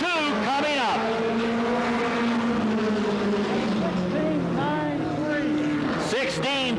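A 1988 Goody's Dash race car laps Anderson Speedway in South Carolina during qualifying, its engine rising and falling loudly as it passes and circles the oval, with a commentator talking over the roar.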